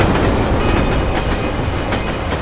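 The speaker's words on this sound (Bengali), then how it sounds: "আর ট্রেনের আওয়াজও শুনতে পেয়েছিলাম আমি।" A passing train rumbles loudly and continuously with rhythmic clickety-clack of wheels on the rails, close by and with no voices.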